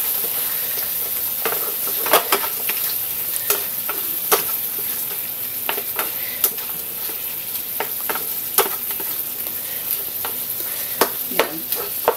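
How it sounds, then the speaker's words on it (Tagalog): Pork liver with egg in a pan being stirred, oyster sauce and sugar added, a constant sizzling hiss broken by sharp spatula scrapes and taps at irregular intervals, up close with no voices. "Haluin natin."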